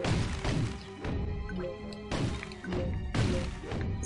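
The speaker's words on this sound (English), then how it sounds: "Smashing all this stuff to get some ammo, just in case." Objects being smashed for ammo in the video game Psychonauts, a busy run of repeated crashing, whacking hits and thuds over layered game sound, loud and close, with no talking.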